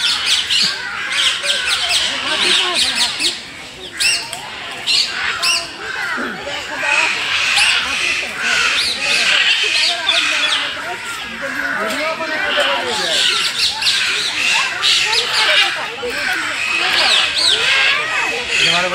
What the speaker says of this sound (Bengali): আমরা এখন দেখছি পাখি।